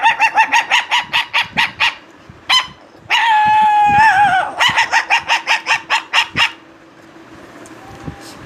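A human voice imitates a small puppy, giving a quick run of high yips, then a longer whiny whimper, then another burst of rapid yelps. Close, loud and alone.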